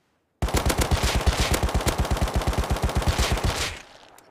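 Rapid automatic fire from an LR-300 rifle in the game Rust, a continuous burst of roughly thirty evenly spaced loud shots over about three seconds, ending with a brief fading echo.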